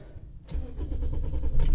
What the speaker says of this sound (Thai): นี่เลยเครื่องยนต์สตาร์ทติดง่ายๆนะครับลูกค้าอ่ะ